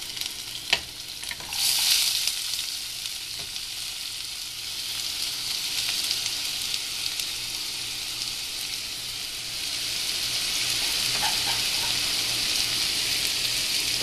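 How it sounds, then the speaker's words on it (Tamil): Onion, curry leaves and green chillies sauté in hot oil with a loud, continuous sizzle, and a few stirring clinks occasionally break through. "நல்லா வதக்கிக்கோங்க."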